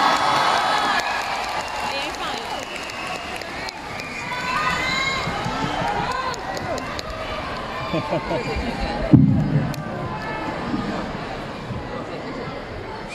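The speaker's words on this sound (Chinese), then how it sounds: "有请表演者张鹤伦、郎鹤炎，掌声有请。" Audience applause and cheering greet two xiangsheng comedians at a Deyun Society crosstalk show in Shangqiu, a steady crowd wash of clapping and voices throughout, swelling briefly near the end.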